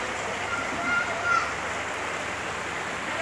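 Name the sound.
floodwater running down the main street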